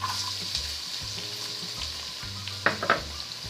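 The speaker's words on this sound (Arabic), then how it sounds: "البقيله ديالي تسخن غندير واحد شويه ديال زيت الزيتون اولا زيت نباتيه اللي بغيتو. غنضيف عليها البصل" Onion fries in olive oil in a hot pan with a steady, close sizzle, broken by a couple of small clinks toward the end.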